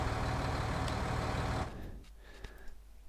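Loud vehicle engine in Farming Simulator 19, a steady droning rumble that abruptly drops in level partway through, leaving faint clicks and a brief tone.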